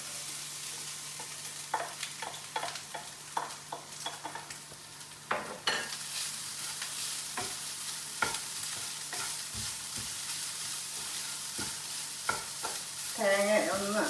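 Grated coconut sautés in a pan with a soft, steady sizzle, while a spoon stirs and scrapes it in irregular strokes close to the microphone.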